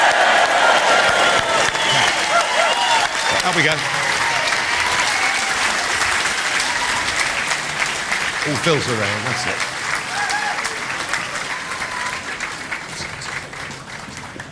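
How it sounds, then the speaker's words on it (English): Large crowd at a Brexit rally cheering and applauding for Nigel Farage, a loud sustained wash of clapping and shouts from start to end, with people speaking briefly over it. "a massive cheer for Nigel Farage"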